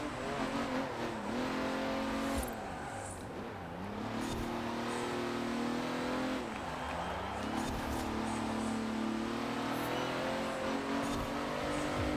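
Racing car engine in Forza Horizon 4 revving steadily with pitch dips as gears shift down, including a sudden drop into first on a corner, loud and continuous throughout.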